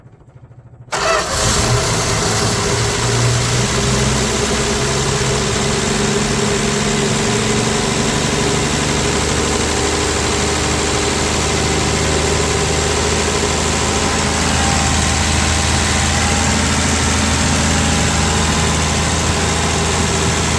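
A 1965 Plymouth Valiant 100 with a slant-six engine and three-speed, started for the first time in years, catches after a brief silence and settles into a steady, loud, even idle with a constant low rumble for about twenty seconds.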